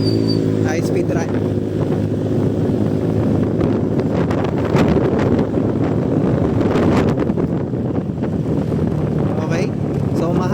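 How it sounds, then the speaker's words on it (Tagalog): Wind buffets a phone microphone during a high-speed run on a boat, a continuous loud rushing roar with gusty bursts, under occasional talking. "So mahangin yan mga boss."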